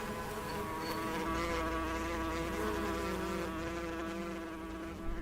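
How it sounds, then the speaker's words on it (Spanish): A dense swarm of flesh-eating wasps drones steadily, a close, continuous insect buzz with shifting wingbeat tones filling the whole stretch, no voices over it. "una plaga de avispas devoradora de carne"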